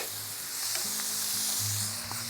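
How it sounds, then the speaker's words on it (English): Chorizo patties sizzle steadily on a flame-licked hot plate as they are broken up, a continuous close frying hiss with scraping and low clatter underneath. "And now I'm actually breaking up our little chorizo patties"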